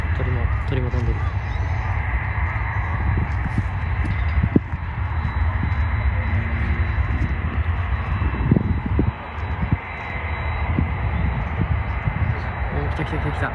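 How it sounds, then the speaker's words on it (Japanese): A low-flying airplane crosses above a river, its engine a steady broadband drone throughout, with crows cawing and people talking nearby. "またなんか次の飛行機来たね"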